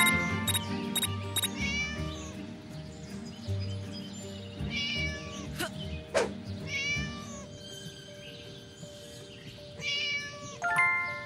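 A cat in the video game Scary Teacher 3D meows repeatedly in drawn-out calls over a steady game backdrop with occasional clicks and chimes, fairly close and clear.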